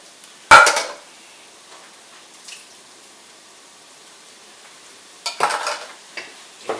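A spoon scrapes and clanks in a pot of turkey chili, with a sharp burst at the start and a cluster of stirring knocks near the end, separated by a quiet stretch of faint simmering.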